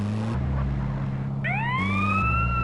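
An ambulance siren in the video game GTA San Andreas wails upward over a steady, droning vehicle engine hum, the siren tone rising sharply partway through and sounding loud and close.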